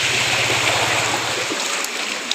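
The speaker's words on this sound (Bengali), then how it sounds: "গাড়িগুলো যাচ্ছে ঢেউ খেলে যাচ্ছে পুরো ঢুকে গেছে" Floodwater rushes and surges steadily across a submerged road as vehicles drive through and push up waves, a loud continuous wash over a low engine hum that fades out toward the end.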